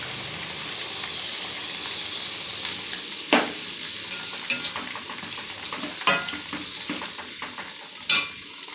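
A spoon stirs a curry of taro stolons and prawns in a pan after coconut milk is poured in; a steady close simmering hiss runs throughout, broken by several sharp scrapes and clinks against the pan.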